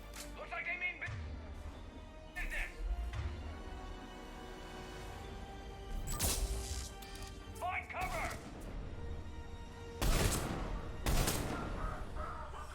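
Bursts of weapon fire and impacts from the video game Mass Effect 3 (Legendary Edition), irregular clusters of sharp shots and crashes over game sound, with someone talking in Polish between volleys.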